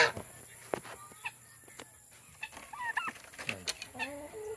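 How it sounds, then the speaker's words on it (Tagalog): Backyard Rhode Island Red hens cluck softly and intermittently at a middle distance, with scattered short calls over a quiet farmyard background. "Yan yung mga Rhode Island Red natin."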